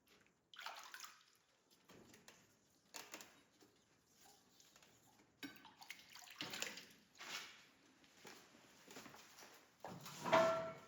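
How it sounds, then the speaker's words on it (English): A Damascus steel knife blade, forged from car shock absorbers, scrubbed underwater with ultra-fine grit sandpaper after an acid etch: irregular wet swishing and sloshing bursts, close and moderately loud, with no talking. "We neutralize the acid and scrub the blade down with ultra-fine grit sandpaper underwater"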